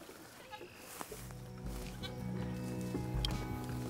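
Goats bleat on a farm, with a few cries rising over low background noise and a faint voice nearby.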